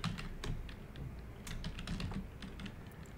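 Search term typed on a computer keyboard: a quick, steady run of close key clicks lasting a few seconds, with no voice over it.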